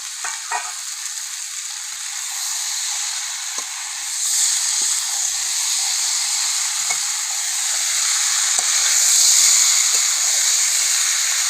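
Spices and pre-fried potato sizzle steadily in oil in a pan while cooking green jackfruit and prawns, a continuous close hiss with occasional soft stirring scrapes that swells slightly toward the end.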